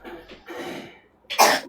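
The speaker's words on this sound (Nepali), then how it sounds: "अलिक खोक्ने बेला नि म्युट बसेर खोक्नु भयो हुन्थ्यो नि" A person coughs during a live stream: a few soft throaty coughs early on, then a loud harsh cough burst near the end, close to the microphone.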